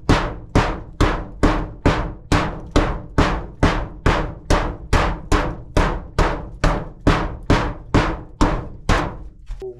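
A hammer strikes an unbreakable box over and over in a steady rhythm, about two loud, close, solid thwacks per second with short ringing decays and no talking.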